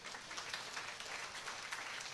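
An audience applauding at a business presentation, a brief, even patter of many hands that sounds quiet and distant.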